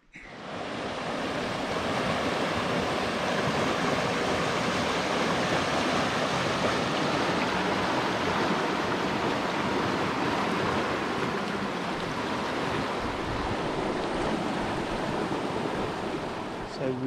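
River water rushing steadily at Butterfly Gorge on the Douglas River, a loud, continuous broadband roar like rapids that holds constant for the whole stretch, with no voices over it.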